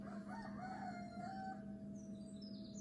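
A rooster crows nearby, one drawn-out cock-a-doodle-doo over an indoor room hum, with faint clucks and bird chirps trailing after and no speech.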